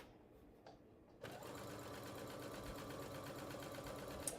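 A sewing machine stitching a quarter-inch seam starts after a short quiet pause, then runs in a steady fast whirring hum close by, alone and fairly soft.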